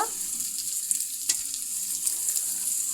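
Cooked pulao rice goes into a frying pan with tomatoes, raising a steady hiss of sizzling oil with a few soft scrapes and clicks as it is tipped in, close and fairly quiet.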